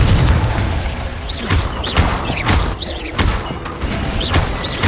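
Repeated fiery spell blasts in Hogwarts Legacy, with dense booming bursts and crackling impacts recurring over a constant layer of game combat noise and chimes.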